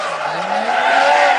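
An RSR Toyota Supra, right-hand drive, drifts at Atlanta Motor Speedway with a loud, continuous tire squeal and a rising engine note close by.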